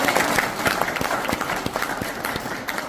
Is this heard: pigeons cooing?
no